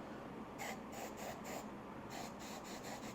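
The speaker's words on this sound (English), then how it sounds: "good extra hold hairspray." Extra hold hairspray sprays into the throttle tube of a new grip on a Kawasaki KL250 motorcycle, in about eight short hissing bursts, close and evenly spaced over a steady background hush.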